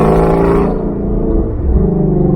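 A Ford Mustang Shelby GT350 running on E85 with an 8,250 rpm factory redline roars loudly up close, a deep engine rumble that dips midway and then swells again.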